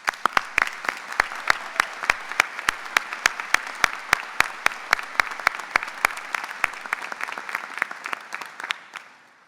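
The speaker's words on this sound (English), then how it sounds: "we want to give you another round of applause." An audience at a 2016 university undergraduate graduation ceremony claps in a large hall, with loud, steady applause and sharp individual claps standing out that slowly fade toward the end.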